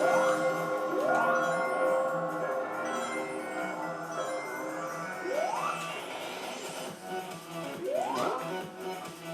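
Several bright rising chimes ring out over steady music as rings are collected from a bell in the Speed Highway stage of a Sonic video game, about four quick sparkling pickups spaced a few seconds apart.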